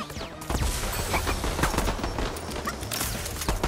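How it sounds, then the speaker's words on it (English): Repeated cartoon explosions and bursts of weapon fire from the Worms Rumble video game, a dense busy barrage of blasts and crackling impacts, loud and continuous throughout. "Oh my god, the explosions down there!"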